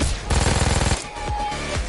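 Rapid bursts of automatic gunfire from a PS4 shooter game, loud and close, with a dense run of evenly spaced shots followed by scattered single cracks.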